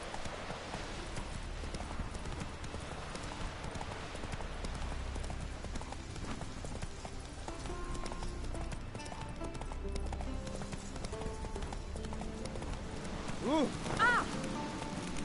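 Roach, the horse in The Witcher 3, gallops with a steady stream of hoofbeats under the game's background sound, with a brief voice near the end.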